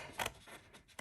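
Snips cutting through card stock for a handmade explosion box: three quick crisp snips, close and fairly quiet, with short pauses between them.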